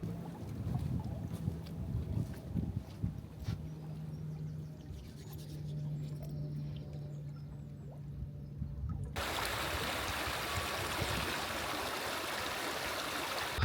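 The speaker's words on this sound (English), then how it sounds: "So let's wander down to the Browney River, see if it is really brown." Steady rushing flow of the Browney River near Beaurepaire Priory, a broad continuous wash close to the microphone, with a brief low hum early on and the sound turning brighter and louder partway through.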